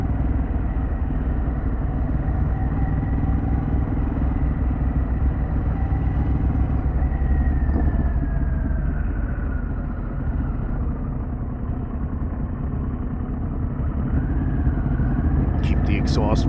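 A Harley-Davidson Pan America motorcycle rides along a road toward Piermont, New York, its engine a steady low rumble with wind noise underneath, and a voice talks over it at times.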